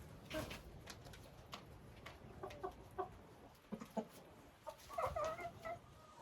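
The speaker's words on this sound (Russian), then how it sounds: "петух Маран" Marans rooster and hens clucking in a greenhouse of pepper plants, with a white Silkie broody hen nearby; a string of short, irregular clucks and calls, moderately close, ending in a louder burst of clucking.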